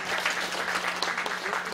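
An audience applauds at a Yangpyeong County community town-hall gathering in Yongmun-myeon, a steady, dense wash of clapping that holds evenly for under two seconds at moderate loudness.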